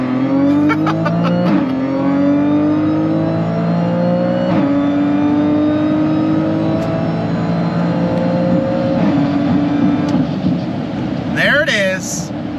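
An Audi B8 S4 on a quarter mile run, its engine revving up through repeated rising pulls broken by sharp gear-change drops, loud and close, with a brief squeal near the end.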